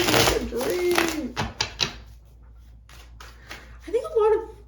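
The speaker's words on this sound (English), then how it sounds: "it shuffles like a dream, honey. Shuffles like a dream." A Rider-Waite tarot deck is riffled and shuffled in quick, crisp bursts of close card flutter, while someone talks over much of it.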